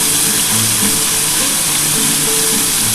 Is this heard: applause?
no